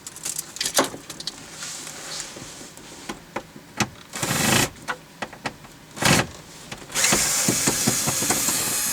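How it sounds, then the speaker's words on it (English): A car being worked on, with bolts on the bottom of the instrument and climate panel being removed: bursts of whirring power tool alternate with clicks, clanks and metallic handling, the whir loudest and longest near the end, close by with no talk. "I'm going to take off the 4 bolts on the bottom"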